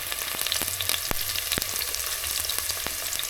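Onion frying in a pan during village chicken cooking in Bweyale, Uganda: a loud, constant crackling hiss with scattered sharp pops and a few utensil knocks, close up and without voices.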